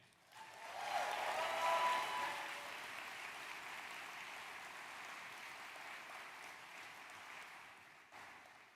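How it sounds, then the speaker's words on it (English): Graduates at a 2024 commencement ceremony break into sustained applause for their friends and family, a broad wash of clapping from a large crowd that swells quickly and then holds steady before tapering. "I would like to take just a moment for the graduates to clap and thank your friends and family"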